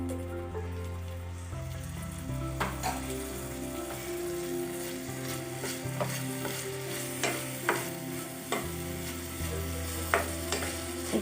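Dill leaves and mixed vegetables stir-fried for an upma, a soft steady sizzle with scattered spoon scrapes and light clinks against the pan, heard under a low background drone and music.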